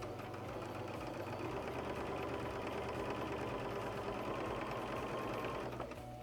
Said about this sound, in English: I'm just chain piecing all of these strips because it saves time